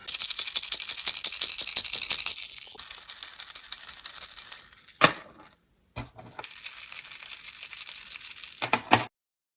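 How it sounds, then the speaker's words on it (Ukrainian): Rapid, continuous rattling of small hard beads inside a plastic pike jerkbait lure, shaken in long bursts close up with brief pauses and a few sharp clicks. "Цей джерк шумовий."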